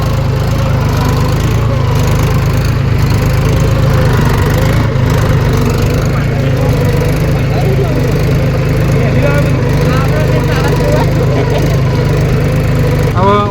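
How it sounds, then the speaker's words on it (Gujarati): A tractor engine runs at a steady idle-like drone with a low rumbling hum that stays close and constant throughout, with possible voices in the background. "ટ્રેક્ટર ચલાવી રહ્યા અને આપણે જોઈ રહ્યા છીએ"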